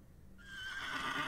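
Horse neighing in the video game The Excavation of Hob's Barrows, a short whinny rising out of quiet and growing louder over about a second, heard alone.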